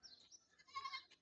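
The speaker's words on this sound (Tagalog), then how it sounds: "Lalaking mga kambing." Goats bleat on a farm in short, faint, nasal cries, a few calls overlapping in quick succession at a distance.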